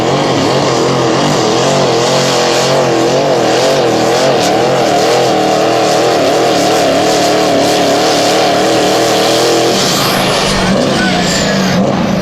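A Chevrolet pro stock diesel truck on DOT tires pulls a sled at a pulling event, its engine roaring loud and sustained with wavering pitch throughout, a commentator's voice faintly beneath.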